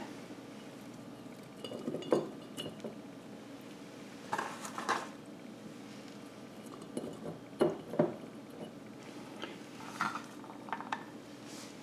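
Onion and eggs placed into a glass jar, heard as scattered light clinks and taps of glass against glass, several soft knocks spread through a fairly quiet room.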